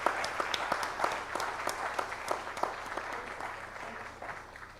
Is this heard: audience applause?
yes